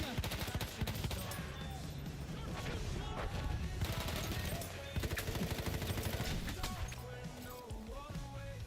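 Machine gun fire from the Battlefield 1 video game, dense rapid bursts running nearly continuously through a loud, busy battle mix with game voices calling out over it.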